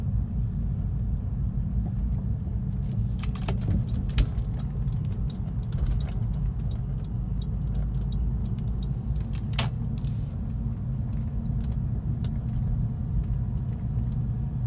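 A Porsche 996 sits idling while it warms up, its engine giving a steady low rumble that continues without a break, joined by a few faint clicks and light knocks.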